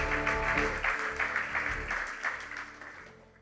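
A church congregation applauds to acclaim the Lord during a service, a dense burst of clapping that starts loud and slowly tapers off over a few seconds.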